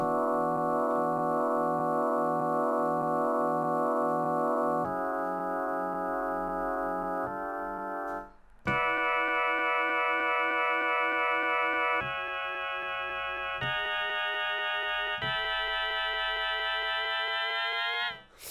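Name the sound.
bit-crushed drum beat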